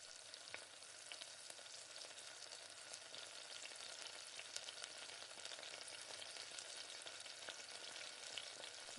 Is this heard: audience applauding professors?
no